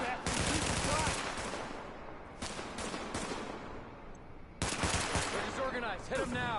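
Heavy gunfire rattles in the shooter game The Division, long loud bursts of rapid shots with short pauses between, close and intense, while game voices shout over the shooting.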